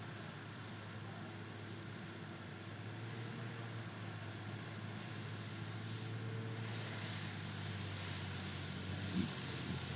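A STOL airplane landing at a short-takeoff-and-landing competition, its propeller engine a steady broad drone that swells slightly toward the end, heard from a distance without speech.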